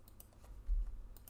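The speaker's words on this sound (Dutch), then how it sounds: "Ik begin eerst even met typen." Soft, light keystrokes on a computer keyboard, a few scattered quiet taps at close range over a low background hum, with no talking.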